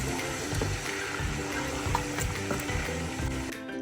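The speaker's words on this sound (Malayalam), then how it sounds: "നമ്മൾ തേങ്ങാപ്പാൽ ആഡ് ചെയ്ത് കൊടുക്കുവാണ്" Coconut milk is poured into a simmering Kerala duck stew, giving a steady close bubbling, sizzling wash with soft liquid splashes and faint stirring, with no talking.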